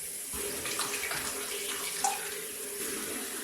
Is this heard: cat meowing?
no